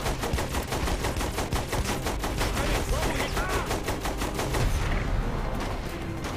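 A vehicle-mounted gun in Saints Row The Third fires in rapid sustained automatic bursts, dense rattling shots continuing loudly for several seconds before tapering near the end.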